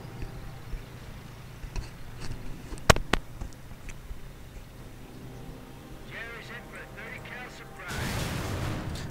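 Artillery fires in a WWII real-time strategy game: a sharp loud blast with a few follow-up thuds, then scattered distant booms and a heavier rumble near the end, under a commentator's voice.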